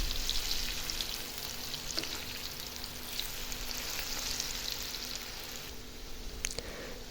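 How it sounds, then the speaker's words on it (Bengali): Cabbage pakora frying in oil over low heat, a faint continuous bubbling sizzle with scattered small pops, steady throughout and fairly quiet. "এই যে দেখুন এখন ভাজতেছি।"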